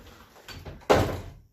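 Closet doors being pushed shut, a soft sliding rumble followed by a firmer thud as they close, close by with no talking.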